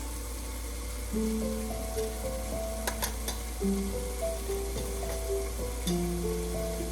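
Steady sizzling of a tadka tempering in the pan for a Punjabi aloo gajar matar sabzi as spices go in, a constant close frying hiss with light clicks and tones from the stovetop.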